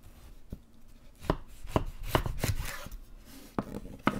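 A knife cuts through a huge cantaloupe on a board, giving a run of soft, wet chopping thunks at uneven intervals, close and fairly quiet, with no talking.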